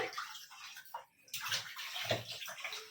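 Tap water splashes and sloshes over raw meat being washed piece by piece, in uneven bursts with a brief pause midway.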